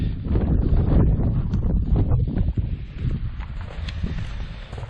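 Wind gusts buffet the microphone in a low, continuous rumble on a day hike in the Ontario backcountry, strongest at first and easing slightly toward the end.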